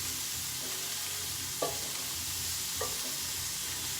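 Shrimp sizzle steadily in a hot frying pan, a dense continuous hiss with two brief clinks as they are flipped over; no one speaks.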